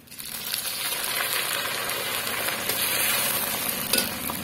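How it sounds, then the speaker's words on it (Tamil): Curry leaves hit hot oil with frying peanuts in a pan, bursting into a loud, steady sizzle with light stirring scrapes, close up and with no talk. "இந்த ஸ்டேஜ்ல கொஞ்சமா நம்ம கருவேப்பிலை சேர்த்துக்கலாங்க."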